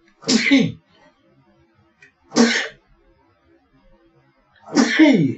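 Three loud, close sneezes from one person, evenly spaced about two seconds apart, each a sharp burst with silence between.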